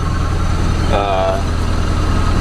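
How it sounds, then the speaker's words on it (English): A 1984 K20 truck engine idles close by with a steady low rumble, with a worn throwout bearing suspected of making noise; a voice cuts in briefly around the middle. "Hear that noise. I'm pretty sure that's a throwout bearing."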